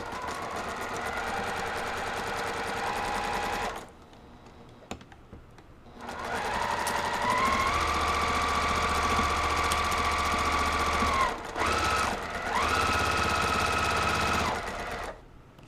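A sewing machine stitches quilt block seams with a 1/4-inch foot, giving a steady whirring run, then a brief pause and a long, even stretch of close, continuous machine hum with a short break near the end.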